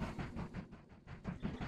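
A diesel-era train from the railway building game Mashinky rolls along with a steady, repeating clickety-clack rhythm and a low rumble, fairly loud and continuous with no voices.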